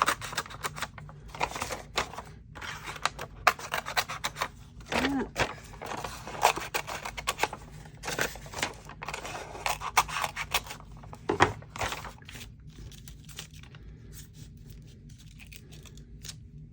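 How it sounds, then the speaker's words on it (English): Scissors snip through paper during a mixed media craft project, cutting out to the corners: a long run of quick, dry crisp clips and rustles, close up, with small pauses and a few louder cuts. "Let's just poke a hole and cut it to the four corners."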